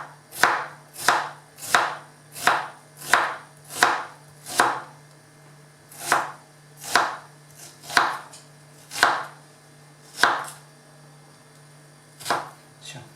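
An onion is cut into strips with a knife on a board for a chicken and wild mushroom julienne, giving a run of about fifteen crisp, evenly spaced chops, close and clear, with brief pauses between.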